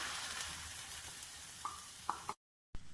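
Steady sizzle of a pan for Kokani-style sprouted moong dal as tomato puree goes in, the frying hiss broken by a few short splatter bursts before a brief cut to silence and a clunk.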